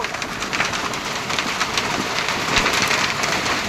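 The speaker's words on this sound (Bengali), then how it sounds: "জোর জোর ফাটে শিল বৃষ্টি হচ্ছে" A heavy hailstorm pounds outdoors with a dense, steady roar of hailstones on surfaces and scattered sharper hits. It stays loud and continuous with no talking.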